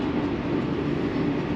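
Local stopping-all-stations train bound for Toyohashi on the Tokaido Line, heard from inside as a steady, loud rumble of running gear and wheels, continuous throughout with no voices.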